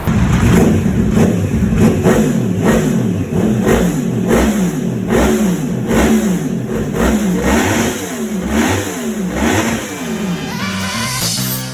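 A Yamaha R1 sport motorcycle fitted with a Dual Villain Conqueror full carbon exhaust revs repeatedly, loud and close, each throttle blip rising and falling in a steady rhythm before settling toward idle.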